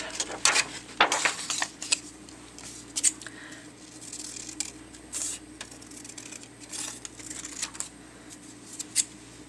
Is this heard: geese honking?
no